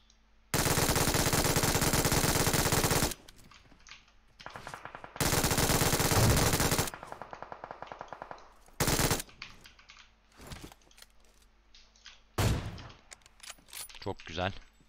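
Bursts of MG3 machine gun fire in the mobile battle royale game PUBG Mobile, with long sustained loud volleys alternating with shorter bursts and brief pauses, while a voice talks faintly at times.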